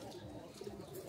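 Pigeon chicks on a Bangladeshi farm give soft, close cooing and murmuring calls that run continuously under a faint, low background.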